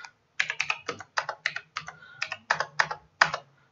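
A date of birth being typed on a computer keyboard: quick, close clusters of crisp key clicks with short pauses between bursts, and no talking.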